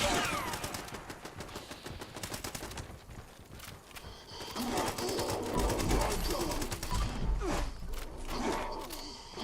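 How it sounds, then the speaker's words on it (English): Rapid bursts of gunfire in Fallout 76 during a raid boss fight, dense overlapping shots and clattering impacts over continuous game noise, with busier, louder fire in the second half. "so I will start shooting them here"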